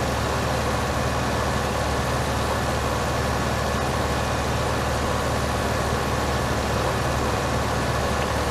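In the Farming Simulator 15 video game on PS4, a tractor engine labours steadily as it climbs a steep incline, a constant loud mechanical drone with no change in pitch and no speech.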